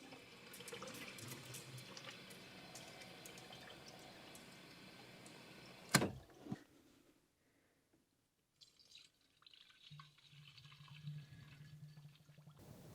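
Rusty water drains from the radiator of a Citroën CX GTi, a gushing, splashing trickle that stops abruptly after about six seconds, then faint drips and a quieter run of liquid resume.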